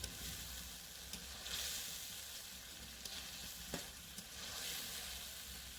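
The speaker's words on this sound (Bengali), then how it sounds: "এই মশলার সাথে চিংড়ি মাছগুলো কষানো হয়ে যাবে।" Prawns frying and being stirred in a spice paste for a Bengali sar chingri dish, giving a steady close sizzle broken by a few sharp spoon scrapes and taps, with no talking.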